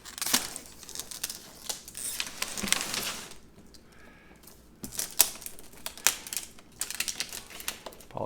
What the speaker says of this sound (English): I'm just trying to get this plastic off